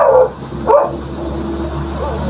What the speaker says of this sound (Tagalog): Ah, dyan yung aso.